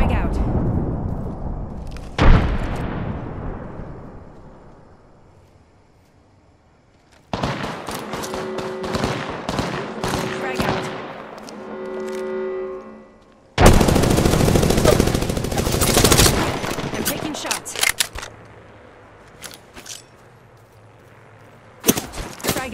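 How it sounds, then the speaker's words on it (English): Gunfire in the video game Apex Legends: bursts of rapid automatic shots and sharp single reports come in several volleys, loud and close, separated by quieter stretches, with a voice talking over parts of the action. "I am taking fire, friends."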